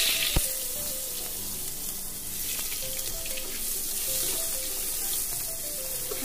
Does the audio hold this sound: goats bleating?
no